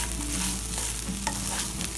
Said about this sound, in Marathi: भात एकदम हळू ढवळायचा